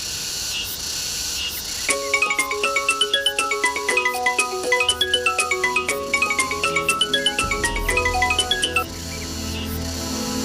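A melodic electronic ringtone plays in repeated chiming phrases, ringing on and on without being picked up, then stops.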